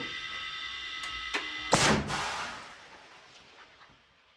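A sharp, loud blast from an anti-tank guided missile launch bursts out after a couple of faint clicks, then rumbles and fades away over a few seconds, with no talking.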